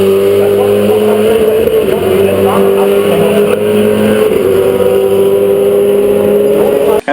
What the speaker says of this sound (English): There was one Ford GT there in the lineup, and just listen to this thing romping down the front straightaway.